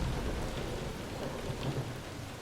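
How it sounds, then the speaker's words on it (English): Steady rain falls on surfaces in a continuous, even wash, with low rumbles of distant thunder rolling underneath, no voices present. "listen to the calming sound of rain"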